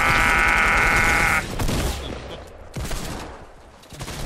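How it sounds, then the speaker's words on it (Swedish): In Fortnite Battle Royale, a sustained buzzing tone cuts off into a heavy RPG explosive blast, followed by rumbling debris and a second burst, loud and close, with no speech. "han sköt en RPG"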